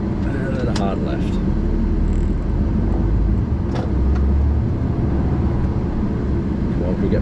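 A delivery vehicle drives and accelerates along a road around Northampton and Peterborough, giving a continuous low engine and road rumble heard from inside the cab for several seconds.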